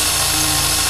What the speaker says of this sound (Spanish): cuando estoy usando el taladro, como el taladro está muy cerca del micrófono, se oye muy fuerte el ruido